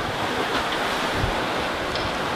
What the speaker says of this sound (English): 13 knots of wind, pretty flat water